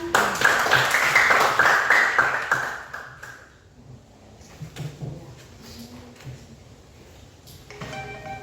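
A class in a religious-education teacher training session claps together, a dense burst that fades out after about three seconds into quiet room sound, with a brief ringing tone near the end.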